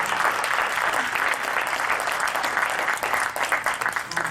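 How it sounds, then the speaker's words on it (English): An audience at a district candidate forum breaks into sustained applause, a dense, loud, continuous patter of many hands filling the room from start to finish. "And you can applaud now."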